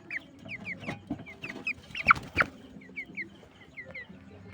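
A young 27-day-old colour bird broiler hen clucks repeatedly in short, close, bright calls while being weighed, with a few louder squawks and handling bumps in the middle.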